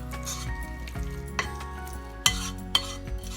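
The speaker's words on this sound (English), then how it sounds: "let me just give it a little stir" A spoon stirs a chicken tater tot casserole mixture, with soft scraping and a few sharp utensil clinks against the dish over a background of steady tonal hum.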